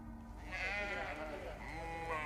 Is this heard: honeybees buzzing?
no